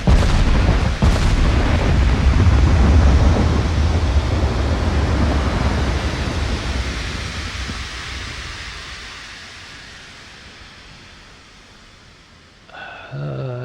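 Naval gunfire from 17-inch guns in the Ultimate Admiral: Dreadnoughts game, a heavy booming blast rolling into a long fading rumble, then a fresh burst of noise near the end.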